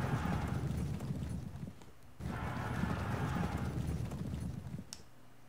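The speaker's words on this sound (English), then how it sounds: "Here's our beautiful elite horses." Elite cavalry horses in the Pike and Shot strategy game clatter in a dense, continuous clip-clop of many hooves, with a neigh near the end and a brief lull midway; fairly loud with no talk.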